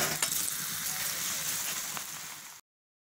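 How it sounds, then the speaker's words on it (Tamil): Steady hiss and crackle of millet-flour onion pakoda batter frying in hot oil, continuous and fairly close, then cutting off abruptly. "இப்போ நம்ம எண்ணெயில் போட்டு பொரிக்க போகிறோம்."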